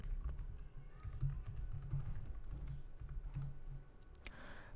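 Computer keyboard typed on during a first login to an Ubuntu base system, a quick series of soft close keystroke clicks in short bursts, quiet and alone without any talking.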